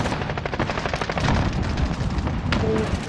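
Rapid automatic gunfire fills a Warzone match, loud and close. Bursts overlap densely with echoing reports, and a voice speaks briefly over the shooting.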